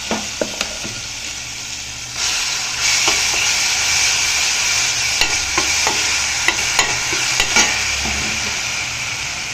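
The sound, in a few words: sautéing ground curry leaf, coriander and mint paste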